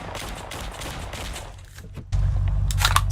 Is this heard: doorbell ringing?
no